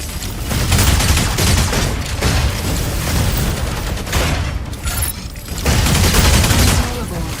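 Robot mech gunfire in the Mecha Break video game: dense, continuous bursts of rapid heavy shots and booming impacts, loud and close, with brief lulls between volleys.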